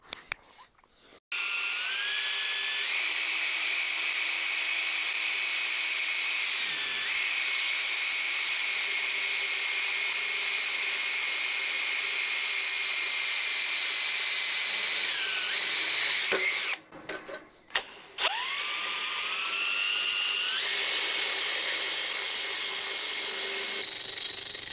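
A power drill bores into a Diaco finger brake with a loud, high, whining hum that shifts pitch as it bites. It cuts out briefly for a couple of seconds near the end, then spins back up.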